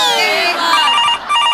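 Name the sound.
telephone ringing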